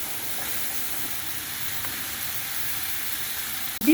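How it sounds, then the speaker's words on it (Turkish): A hamburger patty sizzles in a hot pan with a little olive oil, a steady close frying hiss that holds evenly throughout, ending with a brief clink. "Tavamı ısıttım. İçine biraz zeytinyağı damlattım. Şimdi köftemi bırakıyorum."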